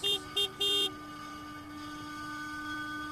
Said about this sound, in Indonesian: Ketika aku pencet klakson,